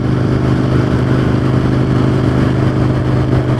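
An Aprilia RSV 1000R Mark II V-twin motorcycle engine runs steadily at close range, a loud, even idle rumble with a constant throbbing drone and no talk over it.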